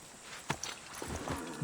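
Horse hooves clop a few times at moderate distance in the Assassin's Creed 3 game world, set in colonial Boston; the sparse, soft thuds sit over a low ambient background.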